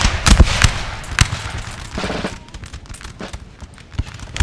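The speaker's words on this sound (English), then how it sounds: "Prepare to fire!" Infantry musket volley in Napoleon Total War, a ragged burst of overlapping shots that crackles loudly at first, then thins out into scattered distant pops.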